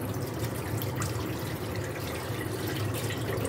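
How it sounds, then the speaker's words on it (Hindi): Water being poured off rice while it is washed in a kitchen, a steady running, splashing wash of liquid that stays loud and continuous throughout with no talking. "अब ये पानी पोर कर देंगे"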